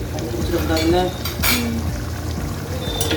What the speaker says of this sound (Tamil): இதை ஒரு கிண்டிடணும்.